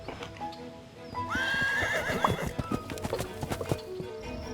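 A horse gives a loud whinny up close while hooves clip-clop steadily underneath, over a faint hum of background noise.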